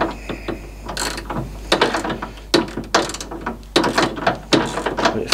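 A socket ratchet turns a screw during refitting of an MGB front windscreen, giving close, loud bursts of rapid clicking pawl ratcheting in repeated short strokes with brief pauses between them.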